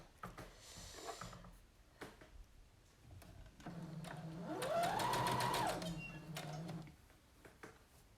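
A domestic sewing machine stitches a skirt, with a short burst, then a longer steady whirring run that rises and falls in speed, heard close amid quiet room handling noises.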